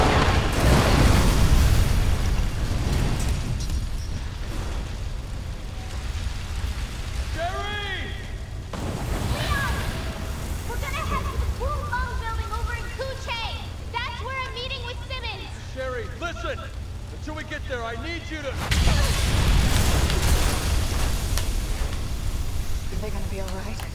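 Explosions and booming blasts from the video game Resident Evil 6, with broadband bursts at the start and again near the end, and a gamer talking over the action in between.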